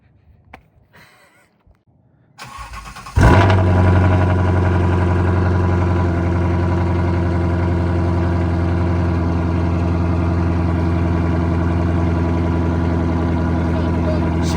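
A 2017 Ford Shelby GT350 engine starts after a few quiet handling noises, then settles into a loud, steady, rumbling idle that continues to the end, close by.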